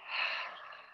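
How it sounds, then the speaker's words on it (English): A single long breath pushed out through the mouth during a beginner Hatha yoga class, a close, breathy rush that swells quickly and then tapers off gradually. "Let's take one big inhale through your nose and one exhale, mouth."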